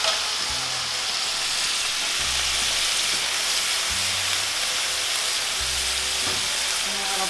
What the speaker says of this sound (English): We can kick those aside for a minute and sizzle in our herbs.